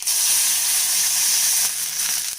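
Mustard seeds and chopped tomatoes tempering in hot oil for mutton rasam, a dense, loud, continuous sizzle and hiss that barely varies throughout.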